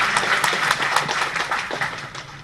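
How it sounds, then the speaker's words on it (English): Audience applause for the chief guest at a Constitution Day celebration in Madras, a dense, moderately loud clatter of many hands that continues throughout the short stretch. "I request the audience to give a round of applause."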